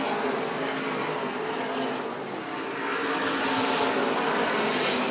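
Modified race cars at a Beech Ridge oval race thunder down the front straightaway, a dense broad engine roar that swells toward the end, loud and steady with no voices.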